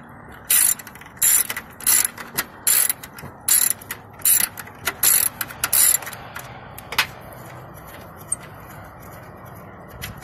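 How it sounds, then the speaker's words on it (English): A ratchet wrench clicks in quick bursts while bolts come out of the coolant reservoir on a 2006 Chevy Aveo, about a dozen sharp, loud, close rattling runs that stop partway through, leaving quiet. "Take those two bolts out, and then get this one here on your electric."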